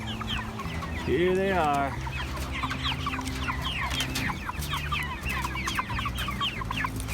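Flock of Cornish Cross meat chickens at nine weeks old, clucking steadily and chirping in quick overlapping calls close by, with one louder drawn-out squawk early on and someone speaking briefly.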